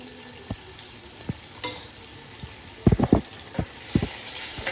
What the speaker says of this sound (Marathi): त्यामध्ये हिरव्या मिरचीची पेस्ट घालूयात 2 चमचे.